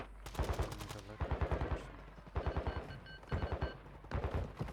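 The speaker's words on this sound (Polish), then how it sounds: "O, ktoś strzela tu." Video game gunfire in a tactical shooter: repeated bursts of rapid automatic shots in quick rhythmic clusters, loud and close, one burst after another with short gaps between.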